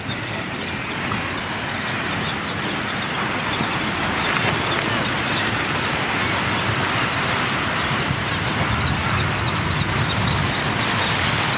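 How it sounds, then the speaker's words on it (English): Dense flock of seabirds nesting in the stone walls of Dunbar castle in Scotland, a continuous loud wash of overlapping calls and cries with steady wind noise throughout. "Look at all those birds nestling in the stonework of the castle walls."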